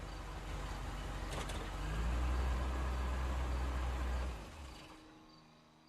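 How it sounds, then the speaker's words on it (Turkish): A car engine in the video game L.A. Noire rumbles and revs with a low droning hum that builds, holds, then cuts off, leaving quiet background. "Motorun sesi ne kadar garip geldi"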